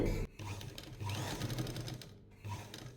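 A sewing machine stitches an elbow puff sleeve on a kurti, a close rapid mechanical whirr in two short bursts with a brief pause between them.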